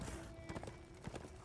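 Horse hooves clip-clop in Darksiders 2, a quick run of faint, evenly spaced thuds over a soft ambient bed with no speech.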